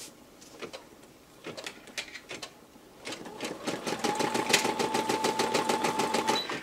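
Embroidery machine starting its first stitches on a caterpillar applique shirt in a re-positional hoop, a steady rapid mechanical chatter building from about three seconds after a few softer taps, close and fairly loud.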